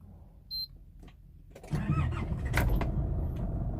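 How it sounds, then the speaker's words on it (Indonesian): A 2009 Nissan Navara with manual 4x4 drivetrain cranks and catches, its engine settling into a steady idle after a short beep and a few faint clicks, heard close with no talk. "Nah, kita starter ya, coba ya."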